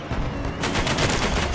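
Gunfire in Battlebit Remastered rattles as a rapid, loud burst of automatic shots from close by, after a short stretch of quieter battlefield noise.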